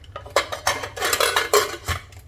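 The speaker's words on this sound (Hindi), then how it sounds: "तो कुकर को बंद करते हैं और इसे 2 सीटी लगाते हैं।" Metal clatters as the lid is set on and closed over a pressure cooker of moong dal, a series of close, sharp clanks and scrapes in the kitchen.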